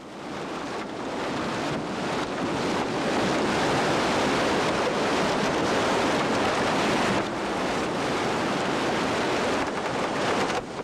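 Tsunami floodwater rushing through a city, a loud, dense, continuous roar of churning water and debris that swells steadily and fills the scene without any voices.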